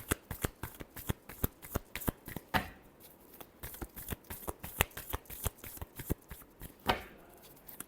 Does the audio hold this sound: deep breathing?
no